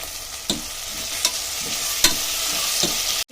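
Tomatoes frying in hot oil in a pan for Andhra-style gongura chicken, a constant loud sizzle broken by four sharp scrapes of a stirring spoon, close and without speech.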